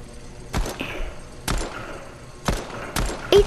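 Pistol shots from the video game Fortnite crack out one at a time in a steady rhythm, five sharp loud reports spaced about half a second to a second apart.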